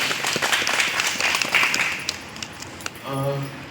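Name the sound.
audience applause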